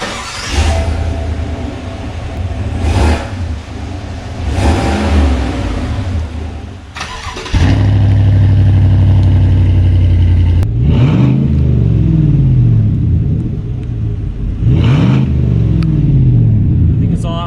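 A 2019 Chevrolet Silverado RST Z71 with an MBRP exhaust cranks and fires, then revs in loud throaty bursts that rise and fall several times, with speech heard over it early on.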